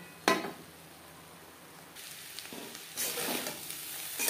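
Bottle gourd peel and yardlong beans cook in a pan over a medium flame. They sizzle softly, with sharper bursts of frying as they are stirred. There is no talk.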